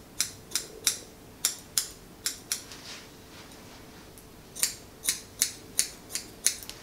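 Scissors trimming a Schnoodle's fringe around the eyes during grooming, a quick series of crisp metallic snips in irregular bursts with a short pause in the middle, close and clear, no voices.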